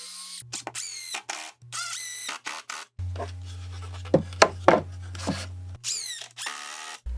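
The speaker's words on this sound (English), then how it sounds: "It's also a good idea to pre-drill these so we don't crack anything." Power drill pre-drilling and driving screws into wooden cat ladder steps, several short bursts of whining motor with gaps between, one longer steady run with sharp clicks and taps, fairly close and clear.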